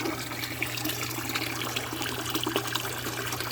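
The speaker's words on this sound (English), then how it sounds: "So I got it draining into the bucket here." Saltwater aquarium water drains into a bucket with a constant trickling, splashing flow and a low steady hum beneath it, close by and unbroken.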